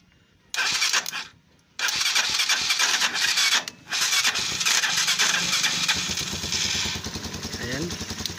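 A car engine, started directly because of a faulty starter relay, cranks briefly, pauses, cranks again and catches, then settles into a steady idle close by, with someone talking over it.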